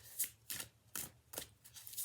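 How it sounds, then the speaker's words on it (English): Tarot cards being shuffled by hand, soft riffling bursts repeating roughly every half second, quiet and close with no talking. "we'll go ahead and start shuffling for you"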